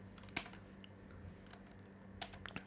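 Typing code on a computer keyboard: a quick burst of key clicks near the start and another cluster near the end, with quiet room hum between, no talking.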